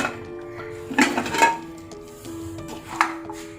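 Oil and mutton going into a cooking pot for namkeen gosht: a few sharp metallic clanks and clinks of utensils against the pot, with two clustered bursts and a later single knock over faint background hum.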